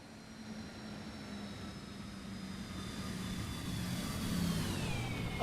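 A Citation X jet passes overhead, a faint rising whine and engine roar that grows steadily louder as it approaches, with no talk.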